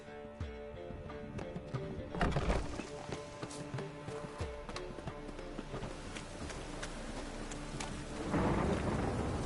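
A thunderstorm in Witcher 3: steady rain patters throughout while several sharp thunder cracks and rumbles break through, with light hoof-like clopping mixed in.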